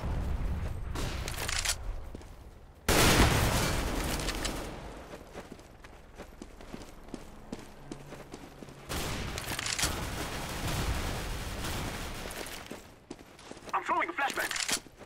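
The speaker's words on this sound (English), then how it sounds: "I'm throwing a flashbang." Gunfire and explosions from CS:GO competitive play, including an abrupt loud burst near the start and later bursts of shots and footsteps. The exact grenade type is not clearly singled out.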